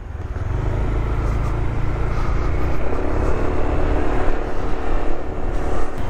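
A newly bought motorcycle engine runs at a steady, close, continuous drone with a low rumbling hum, holding level throughout with no voices over it.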